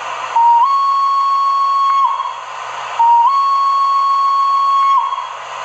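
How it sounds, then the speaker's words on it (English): Two long, steady whistle blasts from a model Swiss Crocodile electric locomotive, each about two seconds with a slight rise at the start, loud and close, separated by a short pause. "And here's the whistle"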